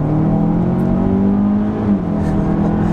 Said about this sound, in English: there's even a little like burp from the exhaust out of the back there.